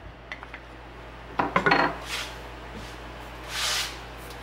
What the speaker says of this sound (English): I'm going to turn a large skillet onto medium heat. And in that skillet, I'm gonna put some butter